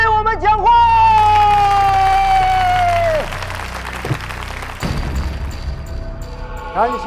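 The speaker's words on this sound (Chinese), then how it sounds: "让我们以热烈的掌声欢迎小泽将军给我们讲话。" A gathering greets General Ozawa with applause that rises as a broad, rustling clatter in the second half, after a long sustained tone that bends downward and fades.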